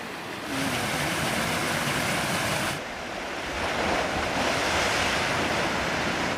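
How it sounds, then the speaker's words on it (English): Waves crash onto rocks along the North Yorkshire coast between Robin Hood's Bay and Scarborough, making a broad, continuous roar with wind buffeting the microphone. There is a slight dip in the surge partway through and no one speaks. "Waves crashing onto the rocks there."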